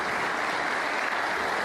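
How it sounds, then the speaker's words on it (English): Applause from the crowd at a professional snooker match comes as a short, steady wash of clapping, fairly distant and even, with no voices over it. "In fact, you can hear the applause there."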